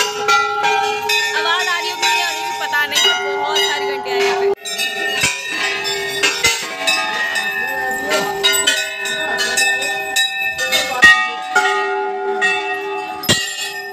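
Many temple bells ring at once at the crowded Chitai Golu Devta Mandir, making a continuous, overlapping clang of bright metallic tones. Sharp strikes cut through the loud, sustained shimmer.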